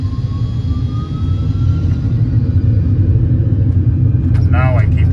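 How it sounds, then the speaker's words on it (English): Boeing 747-400 engines spooling up to takeoff thrust from the cockpit of a heavy-weight departure, a loud deep rumble and rising drone that builds steadily, with a faint whine climbing in pitch. "Just press it once, and the thrust moves forward."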